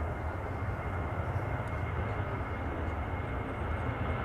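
A KLM Boeing 737-800 departs Amsterdam Schiphol Airport, its jet engines making a steady, loud broadband roar that holds evenly throughout, with no voices.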